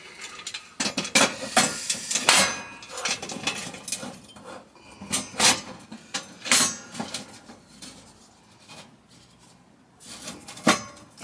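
Metal parts being tapped and knocked together while a homemade diesel oil stove burner is assembled with its burner mesh: irregular sharp clanks and taps of varying loudness, close by, with no talking.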